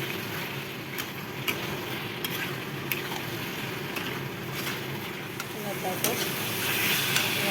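Egg curry with potatoes is sautéed and stirred in a pan, a fairly quiet sizzle under scraping spoon strokes and small knocks. A person speaks briefly over the cooking.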